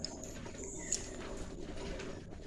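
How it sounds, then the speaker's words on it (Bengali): Soft, low pigeon cooing murmurs steadily at a house in the morning over a constant background hum, with a faint higher chirp briefly standing out. "কত পায়রা, আর এরা হচ্ছে সকালবেলায় আমাদের বাড়িতে"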